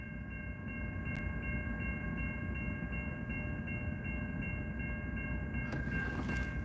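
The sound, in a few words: train passing and stopping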